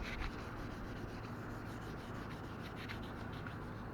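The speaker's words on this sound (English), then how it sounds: "wet sanding." Wet sanding a car body with 2000 grade sandpaper during rust repair, a steady close rasping rub with a quick back-and-forth rhythm, continuous and quiet.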